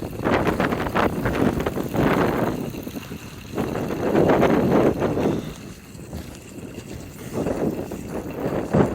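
Strong gusty wind around 20 mph blows past a DIY wind turbine, roaring and buffeting the microphone in surging waves that rise and fall every few seconds.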